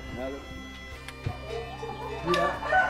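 Hens cluck in short bursts close by, with a person talking over them throughout.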